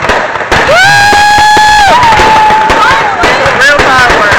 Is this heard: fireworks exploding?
yes